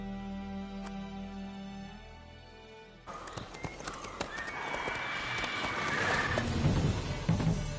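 Hooves of Roach, a horse in The Witcher 3 fantasy game, clatter in a fast gallop that starts abruptly partway through and builds in loudness, with a brief whinny and a faint voice in the background.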